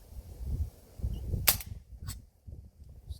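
A Silverback SRS airsoft sniper rifle converted to HPA and running at 155 PSI fires one sharp, close crack at mid-clip, with a fainter second snap soon after over low background rumble.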